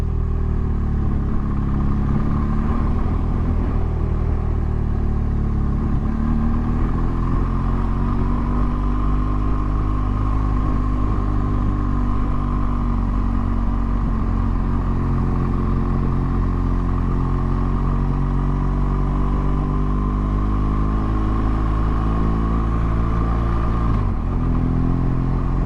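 A motorcycle engine drones steadily throughout, close and continuous, with slight rises and falls in pitch as it rides along a fell road over Birker Fell.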